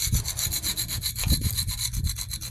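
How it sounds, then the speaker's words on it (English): A spatula or spackle tool scrapes calcium buildup off a pool surface in steady, rhythmic, gritty rasping strokes, loud and close with no voices. "Just go in and get that. Scrape that up."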